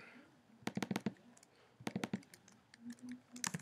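Short bursts of computer keyboard typing, two quick clusters of keystrokes with a pause between them, fairly close and moderately loud, followed by a few scattered clicks, with no one speaking.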